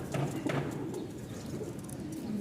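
Bashiraj pigeons cooing in a loft, a soft low cooing that repeats steadily over a constant background hum, with no talking.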